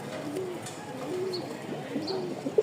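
Pigeons at a Dhaka pigeon market, including a Lahori pair, coo in repeated soft rolling calls close by, with a faint chirp or two and a low background murmur.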